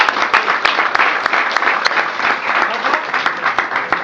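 Loud, dense applause from a room of colleagues at a team training session, a continuous crackle of many hands clapping close by, steady throughout with sharp individual claps poking through.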